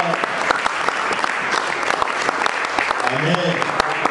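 A church congregation claps loudly and continuously in praise of the Lord, a dense close crackle of many hands with voices calling out underneath.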